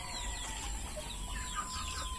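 Farm chickens clucking softly in the background, low and steady over a constant hum, with no voices.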